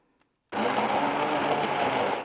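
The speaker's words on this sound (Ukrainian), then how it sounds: "Я переб'ю погружним блендером." A steady motorized whir starts abruptly after a brief silence and runs continuously at constant strength, close by, an immersion blender churning thick jam.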